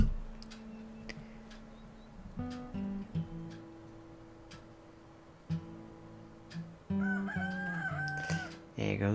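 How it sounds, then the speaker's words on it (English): A rooster crows in Red Dead Redemption 2, a drawn-out cock-a-doodle-doo near the end, over a ticking clock, faint clucks and low background hum. "There goes the chicken."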